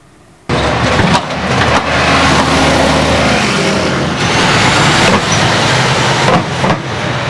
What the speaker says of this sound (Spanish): Este sonido que estamos escuchando en este momento es el que provoca esa arqueta que tenemos ahí enfrente